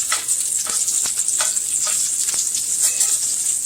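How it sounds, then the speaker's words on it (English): Six pieces of shrimp fry in a hot pan for a garlic shrimp pasta, giving a loud steady sizzle with soft scraping stirs every half second or so, and no talking. "I've got 6 pieces of shrimp here, and I'm going to cook it for about 2 to 3 minutes total."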